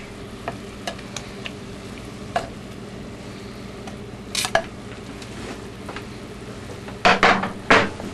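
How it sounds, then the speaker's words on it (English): Cubes of pork tenderloin browning in a clay pot give a steady low sizzle. Scattered utensil clinks and a few louder scraping clatters near the end sound close by, with no talk. "we're going to add our pork tenderloin right into the dish"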